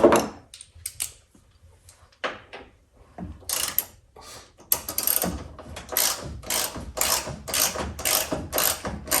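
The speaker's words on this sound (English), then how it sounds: "Take that bolt out." Close, loud ratcheting from a wrench backing out the front bolt of a Ford Ranger tailgate, starting with a few scattered clicks and metal knocks, then settling into a steady run of rapid back-and-forth ratchet strokes, with no voices.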